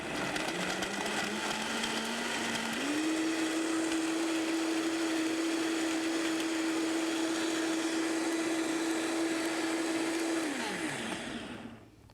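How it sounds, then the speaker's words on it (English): Vitamix blender starts slow, then ramps up to a loud, steady whirring roar that holds for several seconds before winding down, with no talking. "This Vitamix is really great because it's a very intense kind of blender."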